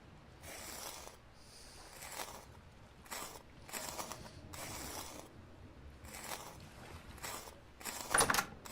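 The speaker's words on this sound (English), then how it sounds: "So kind of a grinder of sorts" Grinder mechanism turning in the game Vintage Story, giving a soft, repeating ratcheting clatter of gears in irregular bursts, fairly quiet and close, with no talking.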